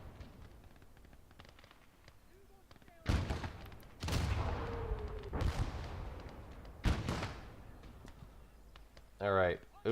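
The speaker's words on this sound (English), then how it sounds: "Big Russian artillery shell." Heavy Russian artillery shells firing in the MACE game, three or four loud booming blasts spaced a second or two apart, each with a rumbling tail, over a quiet background with a brief voice near the end.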